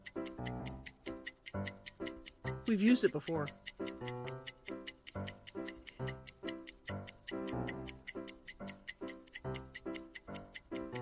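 A steady, regular ticking beat runs throughout as timer-style music, with voices talking briefly over it partway through.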